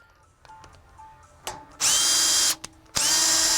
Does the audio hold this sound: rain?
no